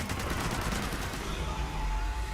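Rapid SMG fire in Fallout 76 with a Bulletstorm effect, a dense continuous burst of close, loud gunshots running through the whole stretch without pause.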